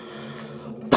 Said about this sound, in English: Sorry that I'm coughing, people.